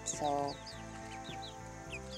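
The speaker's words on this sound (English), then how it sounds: "Seriously, just sit here and watch these chickens" Backyard chickens cluck softly in short repeated calls, with a louder squawk near the start and faint chirps over a low background drone, while a person murmurs briefly.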